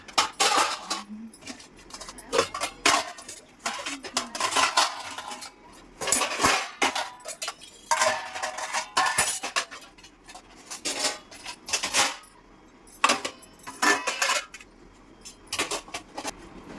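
Dishes and metal vessels being stacked and put away in a home kitchen, a steady run of sharp clinks, clanks and rattles of pots, plates and cutlery at close range, with no talk.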